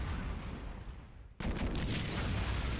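Bombs going off in Super Bomberman R Online, a dense roaring burst that cuts in sharply midway after a duller rumbling stretch, loud and continuous with no voices.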